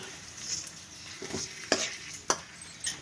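Tomato juice being stirred in a pan for country chicken soup, a soft continuous sizzle with scraping spoon strokes and a few sharp clinks against the pan, no talking.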